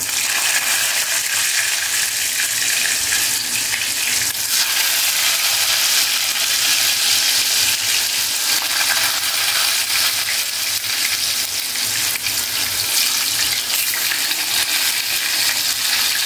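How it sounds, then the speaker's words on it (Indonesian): Tofu fries in hot oil in a pan, a loud, dense, continuous sizzle and crackle that holds steady from start to finish with no talk. "Minyaknya udah panas, aku mau goreng tahu."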